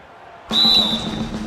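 A referee's whistle at a televised basketball game blows in one sharp, loud blast, held for a moment over crowd noise and arena ambience.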